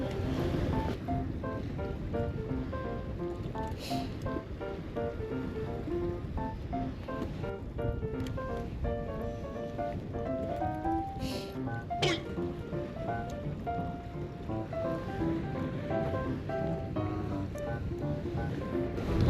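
Sea waves around a boat on a windy, cold fishing trip, a constant rushing wash of surf and wind noise buffeting the microphone, with scattered knocks and faint voices in the background.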